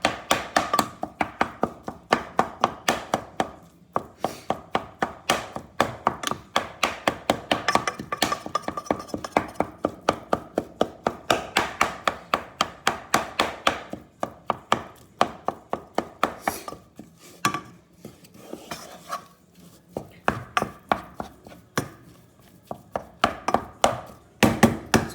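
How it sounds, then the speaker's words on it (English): A utensil repeatedly chops and breaks up mince in a pot, with steady, rapid close taps against the pan bottom that continue almost without pause and occasionally slow. "I chop it."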